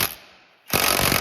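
Impact gun on the rear shock absorber nut of a 2015 Kia Sportage, a loud close hammering rattle in two bursts with a brief pause between them.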